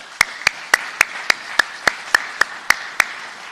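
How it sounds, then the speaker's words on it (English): One person claps slowly and evenly, about a dozen sharp, distinct claps spaced roughly a quarter second apart, close and clear at a government leaders' anniversary event. "So I want to give you a round of applause."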